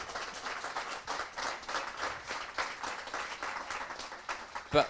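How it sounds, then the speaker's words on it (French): Audience clapping steadily throughout, a warm sustained round of applause from a crowd, ending with a louder final burst. "On peut les applaudir."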